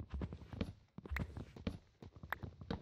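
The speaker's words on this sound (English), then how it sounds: "Why are their footsteps so loud?" Cow footsteps in Minecraft thud in a quick, uneven series of soft clopping steps, close by and fairly quiet, with no one talking.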